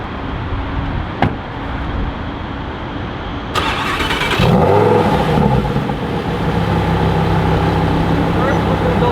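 A Lamborghini Huracan EVO V10 with an Akrapovic titanium exhaust turns over and fires up with a sharp burst, then revs loudly and settles into a deep, steady roar close by; faint speech sits in the background.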